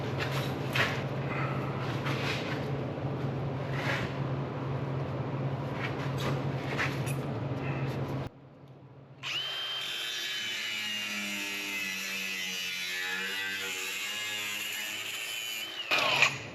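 A power tool grinds and trims the end of a part on a Nomad, steady and fairly loud for the first half, then a brief pause before a higher, whining cut runs on with shifting pitch.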